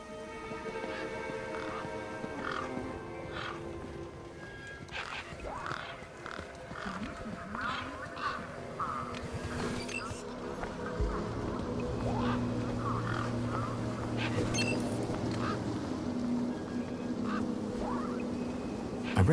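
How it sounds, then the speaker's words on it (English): Birds around a truck in the video game Beyond a Steel Sky, with repeated harsh squawks and chattering calls layered over a low ambient drone. "Those birds weren't going to let me anywhere near the back of the truck."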